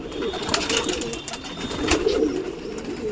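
Young pigeons that have just landed coo steadily nearby, with soft wing flutters and scuffs throughout.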